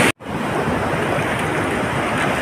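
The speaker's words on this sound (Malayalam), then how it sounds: "ഇതാണ് പുഴ" Flooded river water rushes under the Nilambathi bridge in a Palakkad village near Chittur, a loud steady broadband roar with wind buffeting the microphone and no talk.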